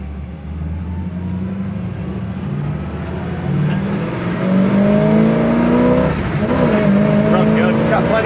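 A 1967 Chevy Camaro heard from inside while driving: a steady engine drone and road rumble that swells as the car accelerates and climbs in pitch, with people talking over it.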